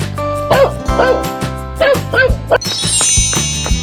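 A dog in a 3D animal slide game yaps in four or five short barks spaced through the clip, near and clear over bouncy background music, with light jingly chimes toward the end.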